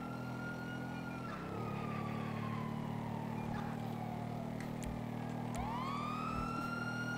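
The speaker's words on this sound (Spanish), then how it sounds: "Todo el rato se están escuchando las patrullas en la ciudad" Police car sirens wail through a city, one rising and falling tone sweeping downward then another rising in, over steady low traffic and engine rumble, fairly close and continuous.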